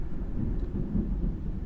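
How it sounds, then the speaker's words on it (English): Low thunder rolls as a steady, distant rumble during rain, with no voices. "Oh, it is raining."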